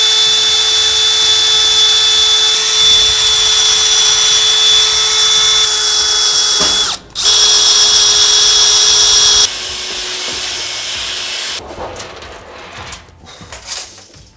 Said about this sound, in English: drill our holes over here